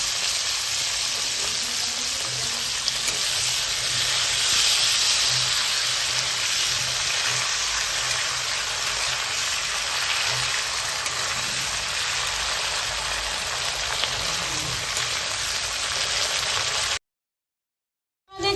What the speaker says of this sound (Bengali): আমরা শিমগুলোকে ভেজে নিচ্ছি।